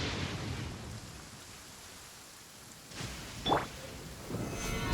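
A video-game thunderstorm delivers steady hissing rain with a couple of sharp thunder cracks near the end, moderately loud and with no voices.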